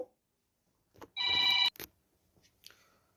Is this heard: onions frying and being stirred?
no